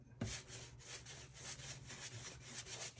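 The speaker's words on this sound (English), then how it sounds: "moving over all of this with the sandpaper" Sandpaper is worked by hand over drywall in a steady series of back-and-forth strokes, each a soft, close, raspy rub, quiet but evenly rhythmic with no speech.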